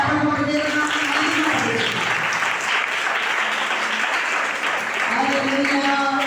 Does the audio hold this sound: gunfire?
no